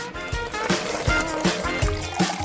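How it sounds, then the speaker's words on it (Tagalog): Water poured onto soil with seeds in it, a close trickling and splashing pour running continuously across the moment, with faint thuds underneath. "ibinubuhos ang tubig dito."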